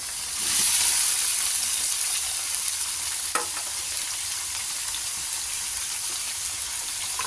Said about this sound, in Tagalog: Nilalagay ko na yung ating gulay na sayote.